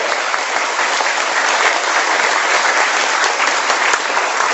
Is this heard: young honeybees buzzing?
no